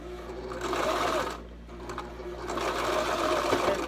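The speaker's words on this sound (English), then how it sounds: "I usually just sew in place for a little bit and tack it down." Brother LS2400 sewing machine stitching a swimsuit coverup, a close, steady mechanical whir running in two bursts with a brief pause between.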